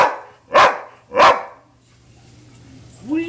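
Two sharp, loud dog barks close by, about a second apart, then a quieter stretch ending in a short rising whine.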